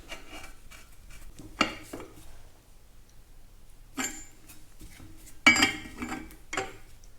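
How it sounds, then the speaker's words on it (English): Metal clinks and scrapes from a wrench tightening the wheel bearing nut on a Farmall tractor front end, sparse and close, with a few sharper knocks spaced apart and quiet gaps between, no voices. "Adjusting wheel bearings"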